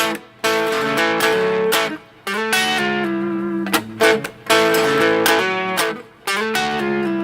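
An electric guitar plays a choppy blues rhythm, strummed chords cut off by brief pauses, close and fairly loud with a slightly gritty tone.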